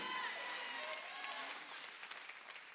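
Quiet, scattered golf claps from an audience at a sermon, soft and steady throughout with a slight swell near the end, heard alone without talk.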